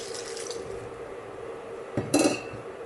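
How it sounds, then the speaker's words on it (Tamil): Water pours into a cooking pot holding lamb legs (trotters) for Tamil-style lamb leg soup, a short splashing burst near the end over a steady low background hum. "ஆட்டுக்கால் சேர்த்துட்டு அது முங்குற அளவுக்கு நம்ம தண்ணி சேர்த்துக்க போகிறோம்."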